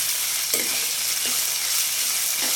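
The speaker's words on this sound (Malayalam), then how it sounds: "ചുമന്നുള്ളി തക്കാളിപ്പഴം ഇതെല്ലാം കൂടെ ചേർത്തിട്ട് കൊടുക്കാം പിന്നെ ഇതെല്ലാം കൂടെ നല്ലതുപോലെ വഴറ്റി എടുക്കണം" Shallots and tomatoes sautéing in a pan for a fish curry, a loud close steady sizzle with a few soft scraping stirs of a spoon.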